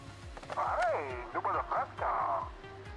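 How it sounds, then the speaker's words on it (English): Crackling radio-style static and garbled, warbling tones over a phone line in a retro store-management video game, steady and fairly loud for about three seconds with sweeping whistles and bursts. "There's so much static on the line. I can't hear a thing."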